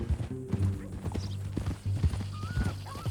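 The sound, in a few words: horse hooves clip-clopping in Red Dead Redemption 2 video game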